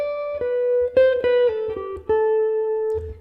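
Solemn Shrine theme from Dragon Quest 3 on the NES, a clean chiptune square-wave melody of sustained and stepping notes with a few short low percussive blips, played alone for about three seconds.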